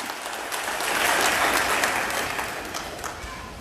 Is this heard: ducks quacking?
no